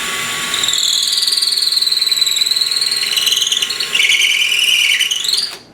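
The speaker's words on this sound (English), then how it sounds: "A hole straight in with my power drill." A power drill whines steadily at close range as it bores into wood, its pitch dipping under load before spinning down at the end.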